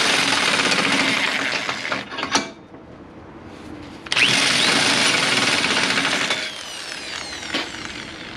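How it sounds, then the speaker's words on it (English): A power drill running in reverse whirs loudly in two long bursts separated by a brief quieter pause, its high grinding motor tone close and steady, smoothing rough edges on a VW engine heat riser. "I'm going to run the drill backwards a little bit to see if I can smooth off any rough edges here"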